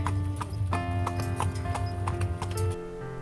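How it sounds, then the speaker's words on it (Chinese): Horse hooves clip-clop at a steady trot as a large horse-drawn carriage carries riders back through a poplar forest in Zepu, Xinjiang, the crisp hoofbeats close and clear over the rolling rumble of wheels. "伴着清脆的马蹄声，我们坐上了返程的大马车。"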